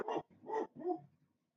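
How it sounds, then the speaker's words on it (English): Several dogs give three quick, loud barks in a row, close by and with a slight whine at the end, indoors with no talking over them. "Sorry about my dogs, guys."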